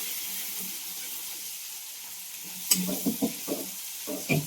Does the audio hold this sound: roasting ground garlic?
yes